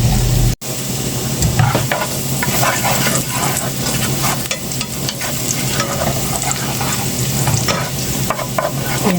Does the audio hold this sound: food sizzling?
yes